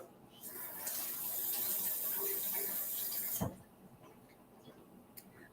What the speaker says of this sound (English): I'm going to give my hands a little rinse since I got egg on them.